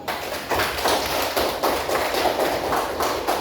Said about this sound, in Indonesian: Sekarang kita kasih aplaus terlebih dahulu.